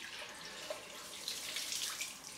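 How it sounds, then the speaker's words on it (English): Cold water runs steadily from a tap into a sink for a shaving rinse, a close, continuous broadband splash with a few brief drip accents and no talking. "So cold rinse."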